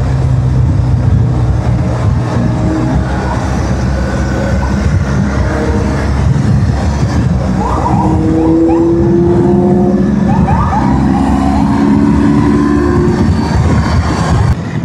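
Steady, loud roar of cars and motorcycles in evening traffic, heard continuously from among the vehicles, with tonal whines rising and falling partway through.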